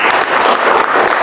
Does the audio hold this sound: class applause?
yes